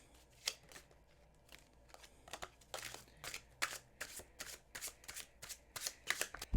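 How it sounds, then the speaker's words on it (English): A deck of standard playing cards used as tarot gets a thorough riffle shuffle, crisp, close, repeated bursts of fluttering card flicks in a quick, uneven rhythm. "Give these another good shuffle"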